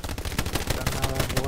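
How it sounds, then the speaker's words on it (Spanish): Rapid gunfire from the World War II shooter game Hell Let Loose, with dense bursts of machine-gun and rifle shots cracking in quick succession, loud and continuous through the whole stretch. "qué tiros ha llevado este, tú"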